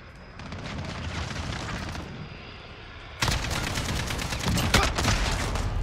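Gunfire in Call of Duty: Modern Warfare during a team deathmatch with domination: rapid, dense bursts of shots that grow louder and sharper partway through, with occasional heavier blasts mixed in.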